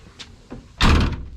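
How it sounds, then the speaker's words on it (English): A van's sliding door slides and shuts with a loud, solid slam past a bike mounted inside, after a few faint clicks and handling noises. "door shuts without any issue"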